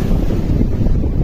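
Sea waves washing up to the beach huts at Sandspit, a heavy, rolling low surge of surf mixed with strong wind buffeting the microphone, loud and constant.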